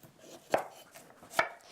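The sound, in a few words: trimming broccoli stems with a knife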